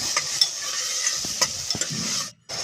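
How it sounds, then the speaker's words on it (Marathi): Onion and tomato frying in oil with mustard seeds and curry leaves, giving a steady close sizzle broken by a few sharp spoon scrapes as the pan is stirred, then a brief silent gap before the sizzle resumes. "तेलामध्ये टाकली मी मोहरी कढीपत्ता कांदा कांदा असा ढवळून घेतला"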